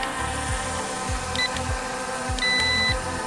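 Long beep from a China drone remote controller: short high tones followed by a sustained electronic beep of about half a second, alongside faint repeated clicks, no talking.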